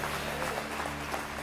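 A church congregation claps hands in praise during a worship service, a steady, dense patter of many hands at moderate volume, heard slightly distant and continuous throughout the short moment.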